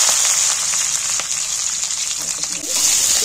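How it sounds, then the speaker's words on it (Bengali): Chopped onions fry in hot oil with a loud, dense, continuous sizzle, close up, with occasional small pops and crackles. "এবার আমি কাটা পেঁয়াজগুলো তেলের মধ্যে তুলে দিচ্ছি।"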